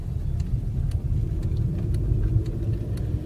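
A car turns around during a driving lesson, giving a steady low engine rumble from inside the vehicle, close and continuous, with faint light clicks above it.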